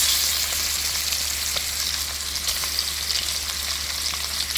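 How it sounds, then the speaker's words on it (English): Pigtail fries in hot oil in a Dutch pot with a loud, constant hissing sizzle and scattered crackling pops, steady throughout and close up. "I'm going to fry these pigtail up before I proceed to cook them up"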